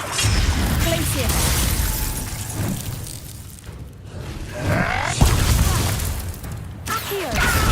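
A Glacius ice spell cast in the Hogwarts Legacy video game, bursting with a sharp crackling shatter amid ongoing combat effects and speech, with a second icy crash a few seconds later.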